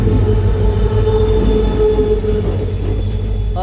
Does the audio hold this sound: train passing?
yes